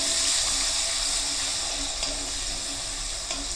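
Thinly sliced onions hitting hot oil for a chicken kosha curry, a steady loud sizzle and hiss that fills the whole moment without pause, no talking.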